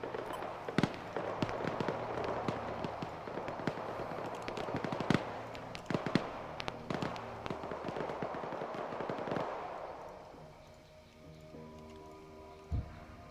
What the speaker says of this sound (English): Another line of flare mortars.